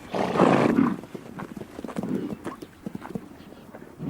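Horse hooves clip-clop in an irregular rhythm, with a loud snort or whinny at the start and outdoor background noise, from horses in Mongolia.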